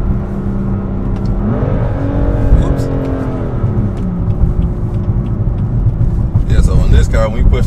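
A car accelerates hard with the pedal pressed to the floor, its engine note climbing into a rising whine mid-clip over a steady, close road rumble.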